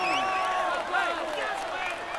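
Crowd applause and cheering in the Tour de France 2015 video game on PS4, a short burst of clapping and crowd noise under a commentator's voice.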